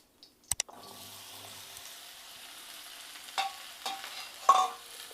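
Pieces of bottle gourd go into oil in a pan for pachadi: a couple of sharp clacks, then a soft steady sizzle broken by a few scraping stirs.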